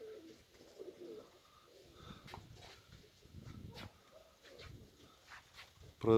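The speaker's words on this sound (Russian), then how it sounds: "Продолжаем тренировать голубей." Pigeons coo softly during training on a windy day, low murmuring coos repeating in bursts at moderate distance, with faint background noise.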